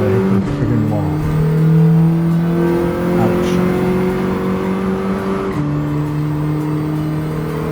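Car in the racing game Gran Turismo 7 accelerating hard, its turbo whining steadily over a loud, sustained engine drone with one gear shift partway through.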